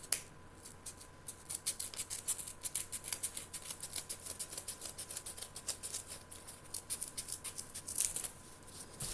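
Scissors snip through a paper petal for a handmade Mother's Day flower card, a quick run of crisp, close cuts in steady rhythm, faint and without talking.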